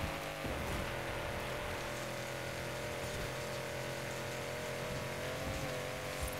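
A car engine in a video game street race near a Guanajuato speedtrap holds a high, steady drone in fifth gear, wound all the way out, with a faint pitch wobble and no talk.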